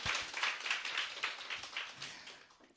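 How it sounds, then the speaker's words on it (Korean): Applause from a seminar audience at a business success-story talk, a dense spray of claps sustained across the whole stretch, fairly close and even, with no talk over it. "큰 박수 한번 보내드릴까요"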